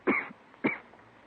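Two separate harsh coughs come from one person in a 1950s American radio crime drama. They are close and fairly clear, spaced about half a second apart against a quiet background.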